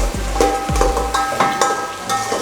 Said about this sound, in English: I like putting some vegetable oil in my stir fry and just let them cook a bit